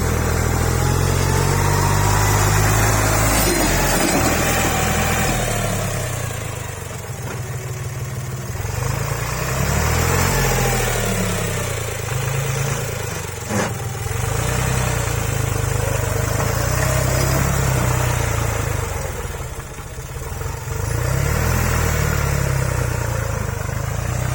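A tractor engine runs steadily through a first-time test drive at a tractor dealer in Wang Sam Mo, Udon Thani, with a loud, continuous mid-pitched drone that rises and dips as the driver fumbles the gears.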